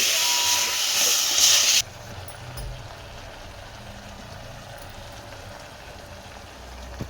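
Vegetables frying with turmeric and salt in a pan for a mixed vegetable curry, a loud bright sizzle for about two seconds that cuts off abruptly, leaving a quiet low hiss and faint background hum.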